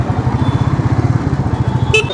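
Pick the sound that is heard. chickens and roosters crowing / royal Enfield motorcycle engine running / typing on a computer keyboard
royal Enfield motorcycle engine running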